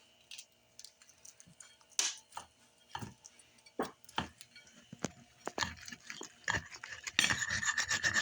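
A knife saws through a sandwich of tough turkey bacon, egg and tomato, giving close, rasping strokes that grow denser and louder near the end.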